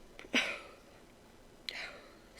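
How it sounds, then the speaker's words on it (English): Two short sneezes close to the mic, the first louder and sharper, the second softer, separated by quiet background hiss. "Sneeze."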